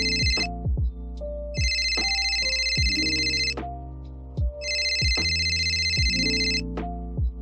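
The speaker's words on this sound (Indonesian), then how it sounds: "suara dering telepon terdengar dari saku celana Chen Fan" A mobile phone ringtone sounds from inside a trouser pocket as a repeating electronic melody: bursts of bright tones with a rising note pattern, two long phrases separated by short gaps, moderately loud and with no talk.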